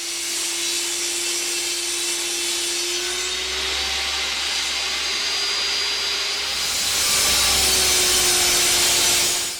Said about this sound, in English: I'm using my homemade jointer jig to get a straight edge on some oak.